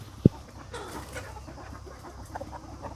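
Native country chickens on a traditional farm cluck softly and intermittently at a moderate distance, with a sharp knock early on and a low rustling background, without any talking.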